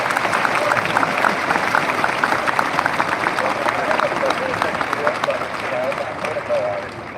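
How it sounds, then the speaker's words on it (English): A large audience at the SLUSH 2025 startup event opening show gives a long, even round of applause for the volunteers, the dense clapping holding steady before easing slightly at the end. "let's give them a huge round of applause"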